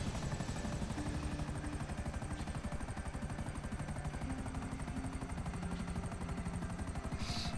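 A helicopter's rotor in GTA Online chops in a fast, steady rhythm throughout, loud and close, with a brief burst of noise near the end.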